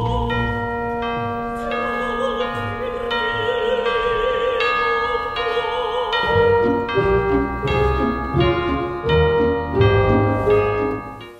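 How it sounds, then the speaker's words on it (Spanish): Orchestral passage from the first act of Puccini's opera Tosca, with church bells ringing in clear, repeated strokes over sustained strings and low instruments, a denser orchestral texture joining midway. "hay un momento en el primer acto en el que se oyen campanas,"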